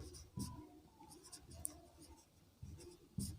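Pen or chalk writing out notes for a Class 12 physics lesson on electric potential, several short scratchy strokes close by in a quiet room.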